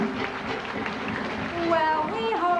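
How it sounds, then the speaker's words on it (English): An audience applauds the guests at a 1992 Walt Disney World luau show, a steady wash of clapping under a voice, which gives way to tonal sound near the end. "applause for all of our guests for coming up here and joining us this evening"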